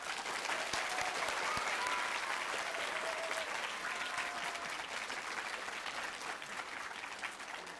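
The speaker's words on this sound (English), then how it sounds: "the live audience here is about to give you a big, loud round of applause" A live audience at a children's book award event gives a long, steady round of applause, dense clapping heard at a moderate distance with a few faint cheers mixed in.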